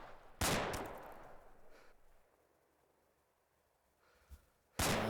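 Gunfire aimed at the player in the Arma 2 video game, in a Takistan warfare battle: a loud sharp crack with a long fading tail, a faint pop a few seconds later, then another loud shot close by.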